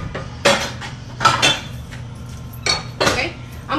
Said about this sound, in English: I'm gonna bring out a small skillet.